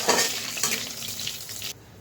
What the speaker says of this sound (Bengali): এই একই তেলে গোটা জিরা আর তেজপাতাটা ফোড়ন দিয়ে দিলাম।